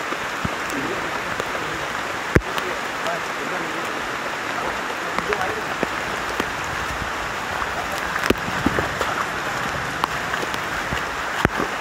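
Steady, heavy downpour in a forest, a broad rushing hiss with sharp drops and patters striking nearby surfaces throughout.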